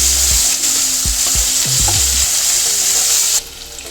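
Onion, capsicum and ginger garlic paste frying in a pan for gobi manchurian, a loud close sizzle over which a utensil knocks and scrapes several times in quick succession, then the hiss drops and softens.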